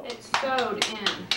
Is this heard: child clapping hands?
yes